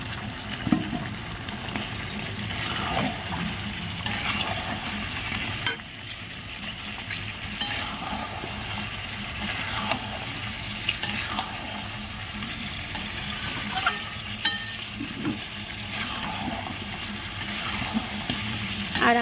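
Potatoes sizzle and fry in oil in a large wok alongside more than a kilo of meat, a steady dense crackle with occasional stirring scrapes throughout.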